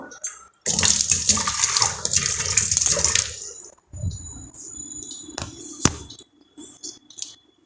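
Tomatoes tipped into a hot curry leaf tempering set off a loud, rushing sizzle for about three seconds, which settles into quieter bubbling with a few scattered clinks and taps.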